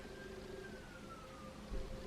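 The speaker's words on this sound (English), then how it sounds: "There's an ambulance in the background." An ambulance siren wails faintly in the distance, a thin tone drifting slowly downward beneath a quiet background hum.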